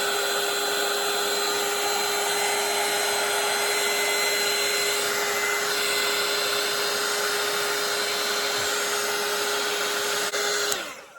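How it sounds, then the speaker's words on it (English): A hair dryer blows steadily and loudly at close range to dry a watercolour painting of potted herbs, a constant motor whine with a fixed hum running without break for about eleven seconds before switching off. "And I'm gonna let this dry with my dryer"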